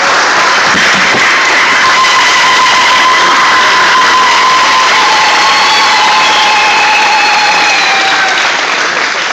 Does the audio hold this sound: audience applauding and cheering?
yes